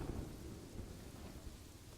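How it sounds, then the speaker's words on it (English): Rain and thunderstorm in Kingdoms & Castles, a steady wash of falling rain under low rolling thunder rumbles, quiet and continuous without voices. "Come on, rain. You can stop anytime now."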